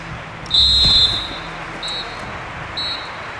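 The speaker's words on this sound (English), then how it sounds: "And the whistle is sounded for half-time in this game" A referee's whistle in a football video game signals half-time: one long shrill blast followed by two shorter, fainter ones, heard over crowd murmur.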